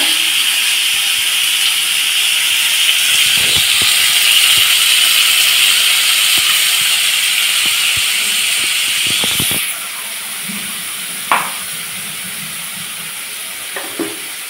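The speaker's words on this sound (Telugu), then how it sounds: "ఈ పచ్చి రొయ్యలు ఇప్పుడు ఇవి బాగా వేపుకోవాలి. నీరు ఆరినంత వరకు వేపుకోవాలి." Raw prawns frying in a pan until their water cooks off, a loud steady sizzling hiss that abruptly drops to a quieter sizzle partway through, with a few clinks and scrapes.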